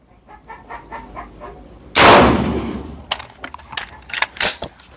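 A single sharp rifle shot is fired at a target five metres away while the scope is zeroed. It is loud and close, with a long decaying crack, and handling clicks and taps follow.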